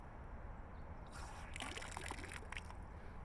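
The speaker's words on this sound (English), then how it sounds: "So there's a little spigot." A trailhead spigot is opened and water trickles and splashes out, faint and close, starting softly and then splattering in irregular bursts.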